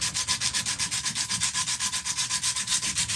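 A Dremel rotary tool fitted with a coarse rotary burr grinds a spoon, giving a steady, close, pulsing abrasive rasp that repeats in quick even strokes with no voices.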